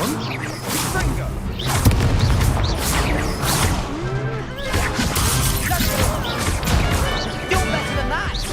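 Spell blasts from the Hogwarts Legacy video game crash and boom in a chaotic fight, with loud bursts, whooshes and impacts layered over shouting voices.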